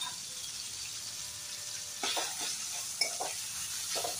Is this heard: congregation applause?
no